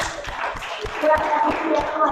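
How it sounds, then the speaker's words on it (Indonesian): Classroom applause after a group's chemistry presentation, light scattered clapping from a small group, moderately loud, with voices talking over it. "Tepuk tangan."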